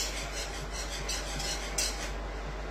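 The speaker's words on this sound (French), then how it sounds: "Allez, on remue tranquillement." A utensil scraping and clinking against a bowl while stirring a quenelle preparation, steady gentle strokes with a low hum underneath and no talking.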